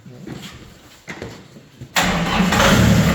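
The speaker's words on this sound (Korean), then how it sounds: "시동 한번 좀 걸어보세요" A 62-horsepower diesel engine on a low-floor box truck cranks twice with short grinding bursts, then catches and settles into a loud, steady close-up idle.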